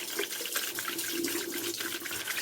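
Hands washed under a running tap, a continuous splashing stream of water with soft irregular sloshing as the hands move, close and moderately quiet.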